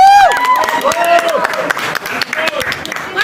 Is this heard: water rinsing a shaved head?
no